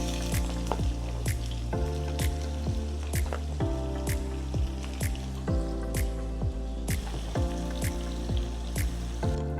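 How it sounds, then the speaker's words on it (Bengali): Onions fry in soybean oil in a wok, with steady crackling and sharp spitting pops over a droning tonal hum. "আমি কড়াইতে তেল দিয়ে দেব। আমি নিয়ে নিয়েছি সয়াবিন তেল। আমি পেঁয়াজগুলো ভেজে নেব।"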